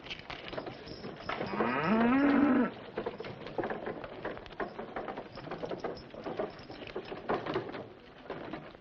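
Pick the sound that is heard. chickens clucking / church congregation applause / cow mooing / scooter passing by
cow mooing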